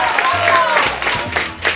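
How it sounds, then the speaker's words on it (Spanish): A studio audience on a Spanish TV variety show claps in a brief burst of applause, mixed with voices and the hum of the stage. "¡Sigan aplaudiendo,"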